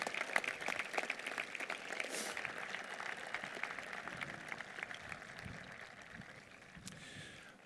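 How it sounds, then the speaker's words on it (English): Applause from a crowd at the Burlington High School Class of 2025 graduation ceremony, honoring graduates who earned their diplomas; a steady, sustained wash of many clapping hands that holds for several seconds and slowly tapers. "Please join me in giving them a round of applause for earning their diplomas"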